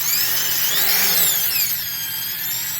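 A Milwaukee hammer drill motor runs steadily with a high, thin whine from new brushes over its hum, fairly close and continuous, with no talking.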